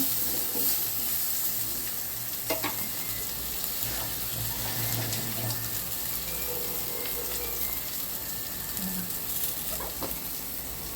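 Fried teasel gourd sizzles in a pan on lowered heat, a faint, steady crackle with occasional soft stirring sounds and no talk.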